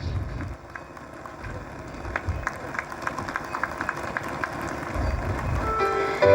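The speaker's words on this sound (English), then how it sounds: "A big round of applause for the Master Anvesh" Annual Day audience applauding a swimming medal winner, scattered clapping that builds gradually from sparse to fuller, moderate in level with a hall-like spread.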